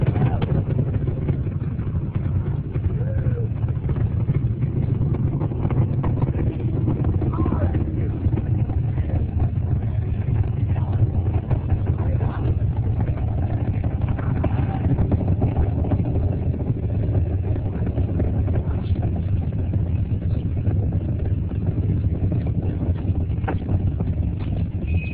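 Space Shuttle Endeavour's engines roaring during the STS-47 launch, a steady, distant, low rumble that holds for the full stretch, with faint broadcast voices over it.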